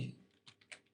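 A few quick key taps on a computer keyboard while a pip install command is typed, three or four soft, closely spaced clicks after a brief opening thump, close and fairly quiet.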